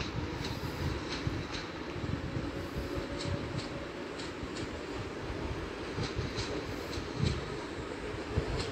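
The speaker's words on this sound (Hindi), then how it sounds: "चलो ट्रेन चल रही है।" An AC 3 tier coach on a moving passenger train carries a steady, loud interior rumble with faint rhythmic clacks over the rail joints, continuous throughout without speech.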